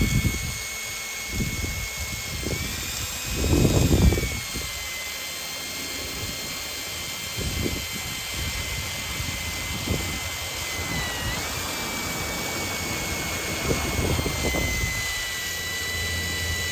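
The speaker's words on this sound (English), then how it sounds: "I'm just kind of lightly leaning on my drill here" A power drill whines steadily with a high sustained motor tone, punctuated by low thuds and scraping bursts as it bores slowly into a wooden end post.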